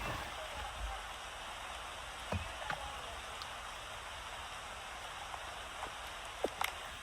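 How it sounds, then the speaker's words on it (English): Steady rain hisses across the whole span at a baseball game, a dense even wash with a few sharper drop taps and faint knocks now and then, and no clear voices. "This rain is getting pretty tough out here."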